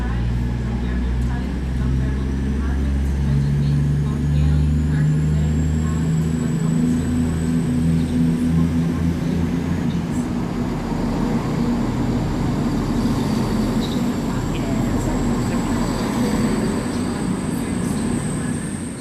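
ScotRail train 174.04 rolls into Edinburgh Haymarket station with a deep, sustained diesel rumble and a high squeal of wheels and brakes, while a nearby voice talks over the approach.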